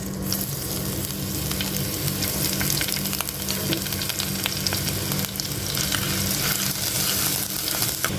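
Crushed ginger and garlic fry in hot coconut oil in a clay pot for a Kerala prawn and drumstick curry, a loud, close, continuous sizzle with occasional stirring scrapes and no talking.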